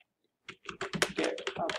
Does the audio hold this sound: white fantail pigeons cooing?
no